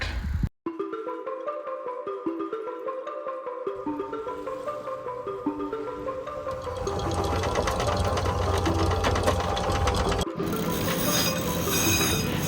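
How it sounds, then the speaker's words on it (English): A sailboat's engine runs steadily while motor sailing along the coast of Zanzibar, giving a continuous mechanical hum with rhythmic clattering, loud and close, that grows busier partway through, with no voices heard. "We are motor sailing our way down the coast of Zanzibar"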